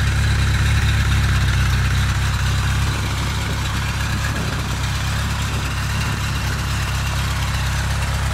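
A fuel-injected engine idles steadily and loudly for the whole stretch, with a deep, even rumble and no voices over it.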